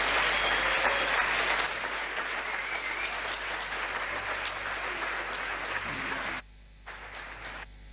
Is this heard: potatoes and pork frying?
no